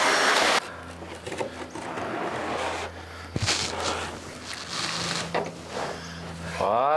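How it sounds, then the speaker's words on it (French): A vacuum cleaner sucks debris off the floor of a wooden-walled swimming pool during liner installation, giving a steady, fairly loud motor hum with a few knocks and shuffles, and a brief rising whine at the end. "un petit coup d'aspirateur"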